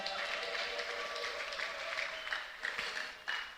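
A church congregation applauding and cheering, a dense wash of clapping from many hands with scattered shouts, moderately loud and sustained, mixed with some voices.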